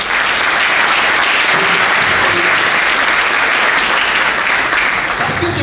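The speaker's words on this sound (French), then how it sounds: "Est-ce qu'on peut encore applaudir?" Loud, dense audience applause fills the whole stretch as a crowd claps continuously for a startup academy team, a steady wash of many hands with no pauses.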